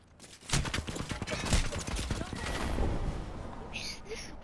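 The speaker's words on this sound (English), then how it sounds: "Some drunk is shooting at me." Dense, rapid gunfire from a first-person shooter video game, a steady rattling stream of shots lasting several seconds, mixed with other game sounds.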